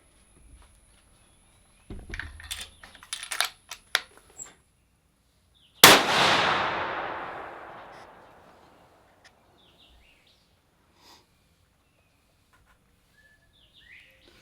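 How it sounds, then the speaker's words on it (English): A single loud, sharp scoped rifle shot fired outdoors at a 100-yard target, with a long echoing decay, preceded by faint clicks and handling noises and followed by near silence. "We're going to take a shot at 100 and make sure everything's good to go."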